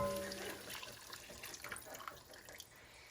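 Whole milk with a small amount of heavy cream pours into a pan, a soft liquid splash and trickle that starts louder and then settles into a steady low wash, with no talking.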